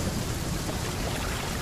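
Thunderstorm rain in the video game The Flame in the Flood, a steady, dense hiss of downpour that fills the short stretch evenly without pauses or voices.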